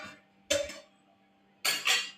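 A hot metal plate lifted out of a heated kadhai with a holder: two separate clattering metallic clanks, close and sharp, with quiet between them.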